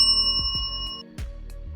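A bright bell-like chime rings out, with several ringing tones over a low musical backing and a couple of soft swooshes.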